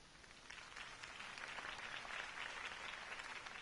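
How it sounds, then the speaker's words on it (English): Steady crowd applause and cheering in a Batman video game, a dense wash of clapping that holds at an even level throughout, with no voices standing out. "could have heard that applause"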